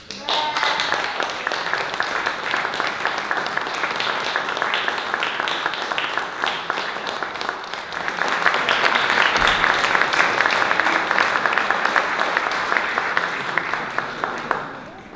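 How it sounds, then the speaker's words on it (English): A concert audience gives a long, sustained round of applause after thanks to families and parents, a dense steady patter of many hands that swells louder partway through before tapering off at the end. "give all the families and the parents a big round of applause"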